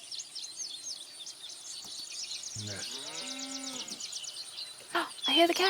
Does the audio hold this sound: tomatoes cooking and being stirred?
no